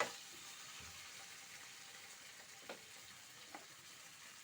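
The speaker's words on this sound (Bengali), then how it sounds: "তেল ছেড়ে এসছে, তো আমি এটাকে এবার এর মধ্যে আমি মশলাটা ঢেলে দেবো" Faint steady sizzle of a ground spice paste of cashew, raisin, poppy seed, mustard and chilli hitting hot oil for a fish kalia, a soft hiss with a few small pops and clicks.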